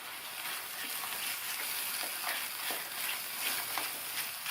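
Masala sautés in hot oil for a chayote curry, giving a steady, close hiss of frying with faint stirring scrapes throughout and no talking.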